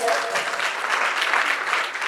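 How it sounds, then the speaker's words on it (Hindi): Vigorous audience applause at an Ayurvedic supplement presentation, continuous and dense across the short stretch, many hands clapping at once in a room with a voice faintly under it. "मैं चाहूंगा एक बार जोरदार तालियां"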